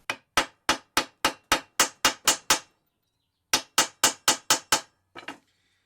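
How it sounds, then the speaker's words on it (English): A hammer strikes a deformed go-kart engine mount to straighten it: a run of nine sharp, evenly spaced metallic blows, a pause, then six more quick hits and a softer final tap, close and loud. "so we'll just hammer that straight."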